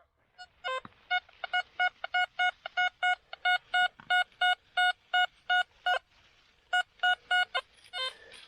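A metal detector sweeping over buried iron outdoors gives a strong, rhythmic series of clear electronic beeps, about fifteen in steady pulses. There is a brief pause before a few more beeps, and no talking.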